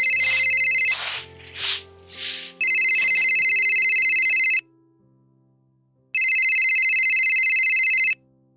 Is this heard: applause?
no